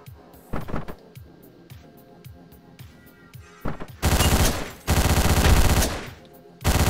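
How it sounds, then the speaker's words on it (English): Muffled, suppressed gunshots pop in a quick series, then give way to louder bursts of rapid automatic gunfire and heavy crashing, in the video game Hotline Miami. "I have a silent gun now."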